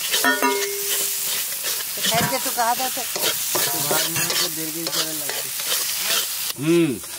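Banana flower ghonto with rice flour and fish head being stirred in a frying pan: steady close scraping strokes over continuous sizzling, with occasional squeaky, tonal scrapes and faint voices in the background.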